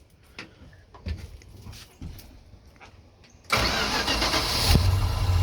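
An old, smoky Dodge engine with a budget carburetor cranks and catches after a few seconds of quiet clicks and shuffling, then settles into a steady, rough idle close by.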